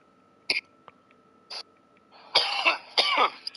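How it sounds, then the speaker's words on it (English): Several sharp, rough coughs from a person during a live Minecraft Bedrock base-building session, two short isolated bursts followed by two longer, louder hacking fits close to the microphone, with no talking. "Cough, cough, cough, cough, cough."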